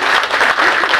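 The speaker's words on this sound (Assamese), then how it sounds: "সকলোৱে হাত চাপৰি বজায়" An audience at a public gathering gives a brief, loud round of applause, dense clapping held close and steady for about a second.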